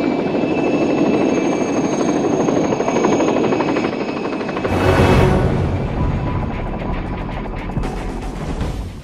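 A helicopter fitted with more than a dozen cameras makes a loud, steady rotor and engine roar close by, with a harsher, brighter whine swelling through the second half.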